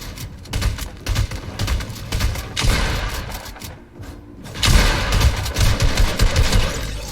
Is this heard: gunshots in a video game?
yes